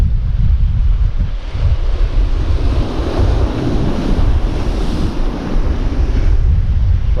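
Ocean waves surge and break against rocks on a winter shoreline during bass fishing, a loud continuous roar with rushing swells and buffeting wind noise, no voices.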